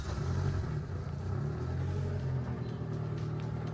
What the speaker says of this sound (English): Will the car start, or have we misdiagnosed this vehicle?